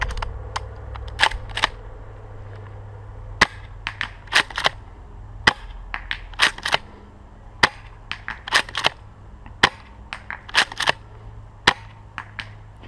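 A Tokyo Marui M870 airsoft gas shotgun fires repeatedly in 6-BB mode, sharp crisp cracks with a quick mechanical clack after each, spaced irregularly over a quiet background, close to the mic, no voices.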